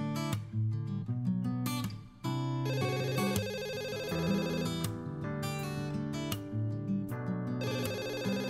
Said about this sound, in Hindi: रमीज, देखो किसका फोन आ रहा है।